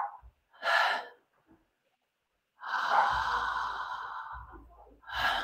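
Connected breathing with a longer inhale flowing into a shorter, relaxed exhale, heard as soft, airy breaths close to the ear with no talking: a brief breath, a pause, then one long sustained breath and another starting.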